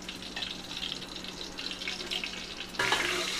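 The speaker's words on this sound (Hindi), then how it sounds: "यहाँ पर हम तेल गरम कर रहे हैं दूधिया दूधिया फ्राई करने के लिए" Dudhiya frying in hot mustard oil, with a steady close hiss and crackle throughout that gets louder and brighter near the end, with no talking.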